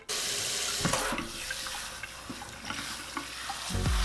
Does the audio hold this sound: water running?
yes